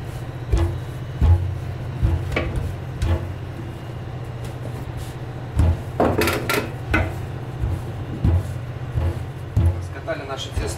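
A ship's cook rolls out dough to about three millimetres with a rolling pin in a galley, producing regular thumps and knocks roughly every second over a steady low engine hum.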